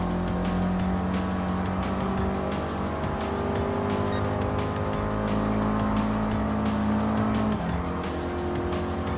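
An Alpine A110 race car in Gran Turismo Sport drives through a final turn into the last lap, its engine droning loud and steady with shifting pitch and brief tire squeals, and no talking over it.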